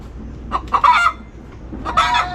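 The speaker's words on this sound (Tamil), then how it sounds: "கோழி வந்து முட்டை விட்டு கத்துற சத்தம் கேட்குது" A hen cackles loudly in repeated bursts after laying an egg, pausing briefly before another run of sharp clucks, with faint farmyard background noise.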